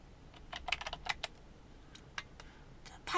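A handful of soft key presses on a computer keyboard in AutoCAD, entering a command letter and Enter, come as quiet clicks in a brief cluster and then scattered taps, with no voices.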